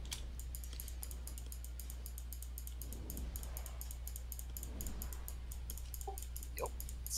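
Quiet keyboard keys, spacebar among them, clacking in a steady quick rhythm under a constant low electrical hum, with a few faint clicks toward the end.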